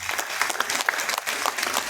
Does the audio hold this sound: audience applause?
yes